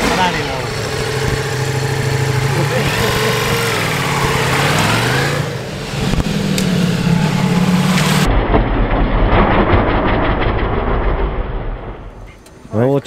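Ducati Multistrada V4S motorcycle engine being ridden, a loud continuous roar with rising and falling revs through gear changes, a sharp shift in tone partway through, voices audible underneath.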